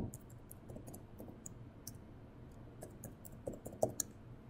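Computer mouse clicks while configuring Hikvision PanoVu camera software, a series of light, sharp, irregular clicks near and quiet, with a few stronger clicks toward the end and no talk.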